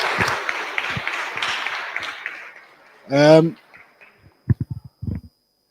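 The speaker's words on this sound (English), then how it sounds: "Give him a big round of applause." Meetup audience applauding a departing speaker at a Jozi.js JavaScript gathering, a broad wash of clapping for about three seconds that fades out, followed by a short burst of voice and a few scattered knocks.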